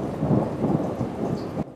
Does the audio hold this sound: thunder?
yes